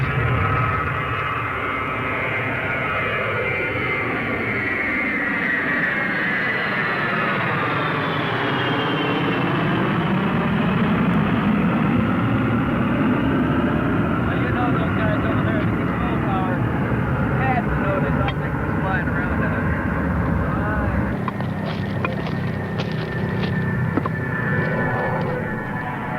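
An airplane takes off and passes overhead near a landing pattern, a loud, sustained rumbling roar whose pitch sweeps down and back up as it flies over, with voices talking faintly over it.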